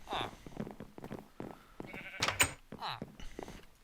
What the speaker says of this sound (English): I just heard a sheep in the inn.